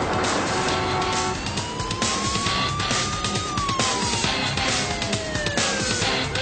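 A police car siren wails with sweeping, rising and falling tones over loud, continuous traffic and engine noise on a highway chase, a car weaving through traffic and along the road shoulder to escape.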